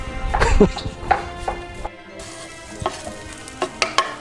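Oil sizzles steadily beneath scattered scrapes and clinks of a utensil stirring onions frying in a pan for paella, close by, with soft movement noises.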